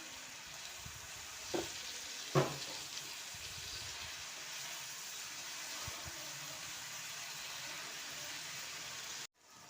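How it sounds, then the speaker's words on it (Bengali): Spinach dropped into hot oil and spices for a spinach dal, giving a soft, even sizzle with a couple of brief knocks of a spoon early on and gentle stirring; fairly faint and steady, cut off near the end. "মশলা থেকে তেল ছেড়ে দিয়েছে, এবার দিয়ে দিলাম পালং শাকটা।"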